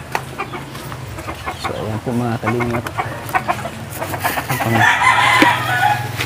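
A flock of backyard chickens clucking and calling at dusk feeding time, close and busy, with someone talking briefly over them.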